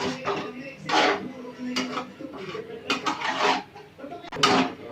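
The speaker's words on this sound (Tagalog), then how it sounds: "Haluin ulit natin para hindi lang sa ibabaw nakalagay yung Ajinomoto." Ingredients stirred in a cooking pot with Ajinomoto seasoning, giving a run of close, uneven scraping and clinking strokes against the pot, several distinct knocks in an irregular rhythm.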